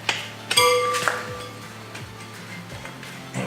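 A 12mm spanner on a motorcycle wheel bead lock gives a series of sharp metallic clinks and ringing taps, several distinct strikes spread over a few seconds, close by with no talk.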